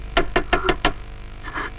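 Five quick knocks on a door rap out in an even rhythm, close and sharp, followed after a short pause by a faint murmur.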